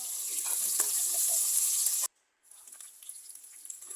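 Garlic and onion sautéing in hot oil for pork kaldereta: a steady, bright sizzle for about two seconds, then a sudden drop to near silence and a quieter, crackling sizzle returning.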